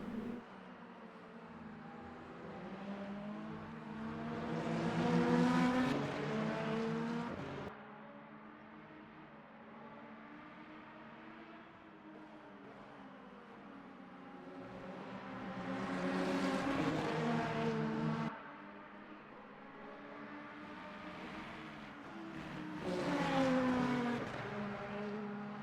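A GT3 race car on the Mulsanne Straight at Le Mans in Le Mans Ultimate, its engine rising loudly through gears in three repeated surges, each climbing in pitch then cutting off abruptly at the shift, with no talk.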